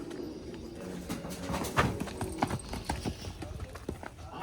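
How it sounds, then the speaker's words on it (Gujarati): A mare on a village farm, with hoof clops and shuffling movements close by, pigeons cooing in the background and faint voices nearby. "અને ઘોડી અહીંયા છે."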